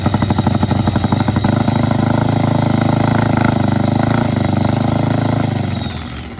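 A top fuel nitro drag racing motorcycle, one of a pair pitting a 4-cylinder machine against a V-twin, idles loudly nearby with a rapid pulsing engine rumble that rises slightly before easing off near the end.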